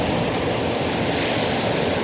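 Sea waves wash out over the shore in a continuous loud rushing hiss, with broad surf noise and some wind buffeting, steady and close throughout.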